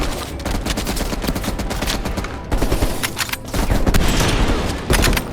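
Dense, loud gunfire in the Call of Duty Cold War campaign, with rapid overlapping automatic bursts and booming shots sustained throughout a heavy firefight.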